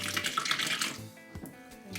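Homemade venison stock pouring into sterilized jars, a splashing liquid stream for about a second that then thins into quieter trickles and small drips.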